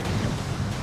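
Choppy lake waves wash and slosh in a steady broadband rush near a rocky shoreline, with wind noise mixed in and no talk.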